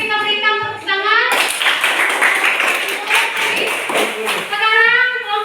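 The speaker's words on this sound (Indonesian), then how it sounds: "Oke, kita berikan tepuk tangan." Students applaud after a group presentation in a junior high school classroom, several seconds of close, scattered clapping with voices talking before and after.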